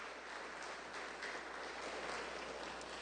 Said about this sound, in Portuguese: dê uma forte salva de palmas para o Senhor Jesus